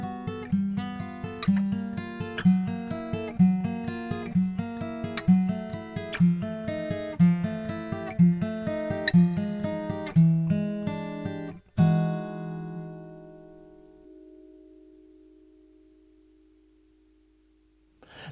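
An acoustic guitar plays a 9th chord fingerpicking exercise, thumb and fingers picking in a steady, even relay pattern for about twelve seconds. It ends on a final chord that rings and fades into silence.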